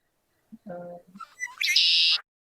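A few tricolored blackbird calls in quick succession: low buzzy notes followed by a harsh, raspy rising squawk, close and fairly loud against a quiet background.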